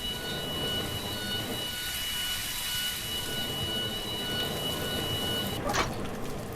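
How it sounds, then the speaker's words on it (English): Emergency sprinklers in a Roblox Studio SCP containment chamber give a steady, dense rush of spraying water, like heavy rain, with a faint alarm tone running underneath that cuts out near the end. "We can also hit the chamber sprinklers and set off an alarm"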